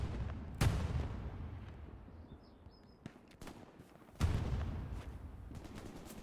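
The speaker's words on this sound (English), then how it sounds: "Did you just throw a grenade against the tree that bounced back behind you?" Two sharp booming blasts of a grenade in the World War II shooter Hell Let Loose, each followed by a decaying rumble, amid scattered distant gunfire.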